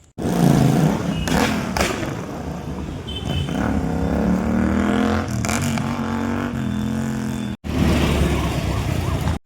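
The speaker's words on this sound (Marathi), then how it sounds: "चोय पावोली तितू ट्रॅफिक" Steady, loud road traffic rumbles close by, with cars passing and engines droning continuously, a couple of brief thumps, and a short dropout near the end.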